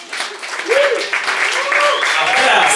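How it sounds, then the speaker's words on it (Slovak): A wedding crowd claps for the newlyweds just before their first dance, with steady applause under someone speaking and a few raised voices. "Poprosím vás, zatleskajme našim mladomážom."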